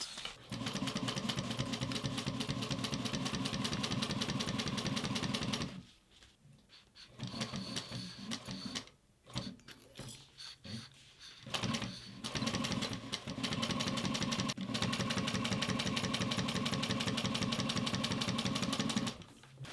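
Juki 1541S industrial leather sewing machine stitching nylon, a fast steady mechanical whirring with rhythmic needle chatter, close and loud, pausing midway for a stretch of slower, uneven stitching before running steadily again.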